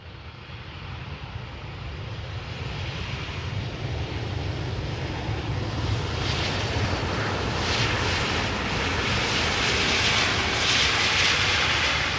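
A British Airways airliner arriving from London Heathrow at Amsterdam Schiphol rumbles with a steady engine roar that slowly grows louder over several seconds, alone with no talk.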